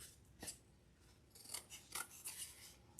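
Scissors snip through pipe cleaners in a series of quick, crisp cuts up close, several sharp clicks spaced irregularly, with no talking.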